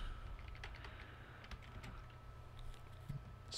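Faint, quick keystrokes on a computer keyboard as a command is entered to update packages on a Raspberry Pi, soft irregular clicks over a low steady hum.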